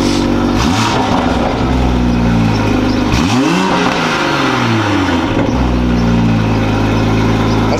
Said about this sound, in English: Hey, catalyst downpipe. This is how it sounds, bro.